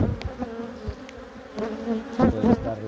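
Dense buzzing of many honeybees at a hive hums steadily close by, with individual bees droning past and swelling louder near the end.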